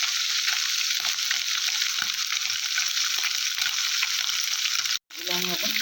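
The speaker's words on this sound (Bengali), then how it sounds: "হালকা ভেজে নেব।" Morola fish lightly frying in oil, a steady dense sizzle running close and loud throughout, cut briefly near the end before soft clatter resumes.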